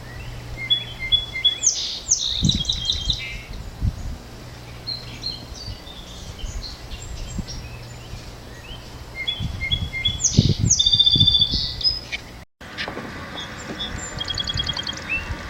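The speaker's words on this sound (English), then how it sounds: "The song sparrow says 3 notes," A song sparrow sings outdoors near an intersection, repeating its phrase of three opening notes followed by complex warbling, moderately close, over low traffic rumble.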